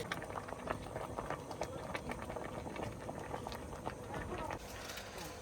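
Koi fish steaming in a clay pot with gourd leaves, giving a busy bubbling, boiling patter that runs steadily and fairly faint, with voices talking over it.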